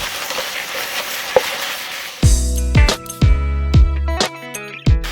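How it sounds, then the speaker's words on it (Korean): Pork sizzles in a hot pan while being stir-fried with a sweet syrup, a steady close frying hiss broken by several sharp metallic scrapes and clanks of a utensil against the pan. "잘 볶아 주세요."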